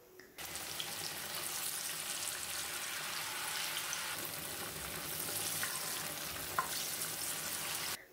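Thinly sliced tofu fries in hot oil over medium heat, a steady close crackling sizzle that runs continuously with no voices.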